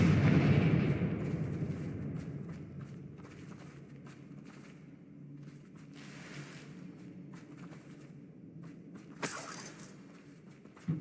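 A Confringo fire spell explodes in the Hogwarts Legacy video game, a sharp booming blast followed by a rumbling, crackling decay, with a brief burst of debris later.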